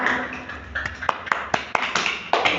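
A classroom claps for the class winner, a short burst of sharp, uneven claps from a small group over about two seconds.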